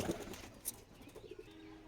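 Caged pigeons coo softly in short, faint, low calls, heard over quiet background noise.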